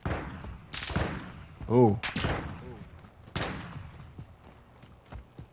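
Gunfire in Call of Duty: Modern Warfare II DMZ, several sharp shots spaced irregularly, some loud and near, with a player talking and exclaiming between them.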